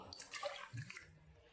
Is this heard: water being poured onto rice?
yes